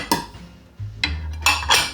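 Plates slotted into an IKEA dish organizer rack with seven-step width adjustment give a few sharp ceramic clinks and clatters over a low hum, close and fairly loud.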